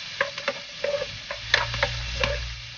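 Onions sauté in a pan over a wood fire, a light sizzle under repeated scraping stirs and small metallic ticks of a spatula, close and fairly quiet, with a low rumble of the fire beneath and no speech.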